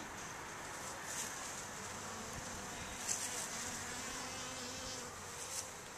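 Honey bees buzz steadily throughout while being installed into a hive, a dense close swarm drone with a few brief louder spikes and no talk.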